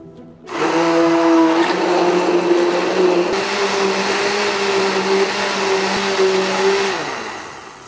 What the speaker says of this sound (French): Donc maintenant on va mixer les œufs, de façon à avoir que ce soit un liquide bien homogène et bien liquide